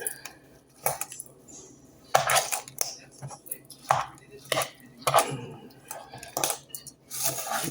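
A fork scrapes and clinks against a bowl while breaking up cheese and beans and mixing them into rice, irregular taps and scrapes close by, with occasional quiet talk.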